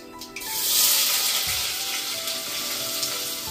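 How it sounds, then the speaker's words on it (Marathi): Onion frying in oil with cumin and mustard seeds inside a pressure cooker, a steady close sizzle that swells early and then holds evenly, with faint clinks. "कुकर मध्ये ना जिरे मोहरी टाकले बघा. आता कांदा टाकते"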